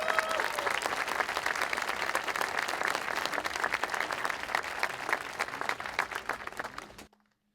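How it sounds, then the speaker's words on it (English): Steady applause from a concert audience for a boys' band alumni performance, dense clapping filling about seven seconds before cutting off abruptly to near silence. "And a big round of applause for my colleague Tak"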